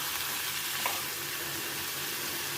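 Diced potatoes and carrots fry in a pan with a steady, even sizzle that holds at one level throughout, close and constant, with no voices.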